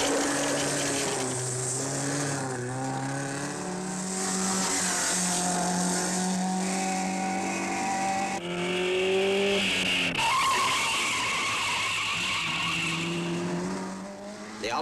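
An Alfa Romeo rally car climbs an Alpine road, its engine revving hard and rising and falling through gears with tire squeal and skidding, loud and close throughout.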